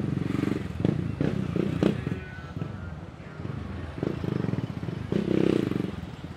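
Delivery motorcycles accelerate through the lane between cars on a crowded night street in Barra Sul, Balneário Camboriú, with engines revving in several rising bursts close by, amid a steady rumble and clatter of surrounding traffic.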